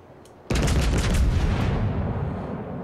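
A sudden loud warship gun blast erupts in the World of Warships naval game, the boom hitting sharply and then rumbling and decaying over a couple of seconds, with no voices.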